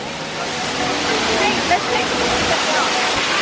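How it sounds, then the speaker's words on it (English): A Costa Rican waterfall roars as a loud, constant broadband rush close by, with voices faintly audible beneath the water's steady wash. "Alright, we just got to the waterfall."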